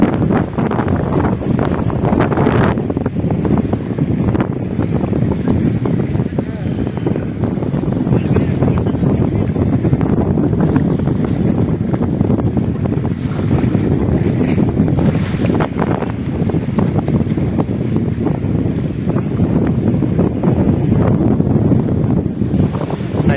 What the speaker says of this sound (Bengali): দারুণ হাওয়া দিচ্ছে।